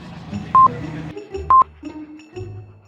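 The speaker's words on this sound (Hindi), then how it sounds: "मेहुल तुरंत हॉस्पिटल फोन कर देता है" Telephone being dialed in a Hindi animated story: two short keypad tones, each clearly separated, set among soft background music with no speech.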